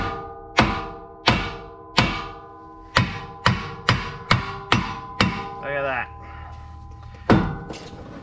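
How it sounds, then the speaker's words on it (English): Repeated sharp metallic hammer blows on a Super Duty 4x4 ball joint, about a dozen strikes at a steady pace, each ringing briefly, with a short scraping pause before a final hit. "And then we're just going to start hammering it down."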